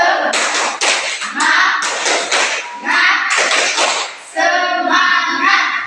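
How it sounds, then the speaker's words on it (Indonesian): A classroom of children performs a rhythmic group clapping chant together, loud and close, with bursts of patterned claps separated by brief pauses, voices mixed in. "sekarang kita lakukan tepuk semangat bersama-sama"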